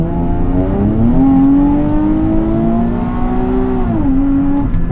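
A Nissan 350Z sports car revs loud and close as it accelerates, its engine note climbing steadily, then dipping briefly at a gear change before rising again.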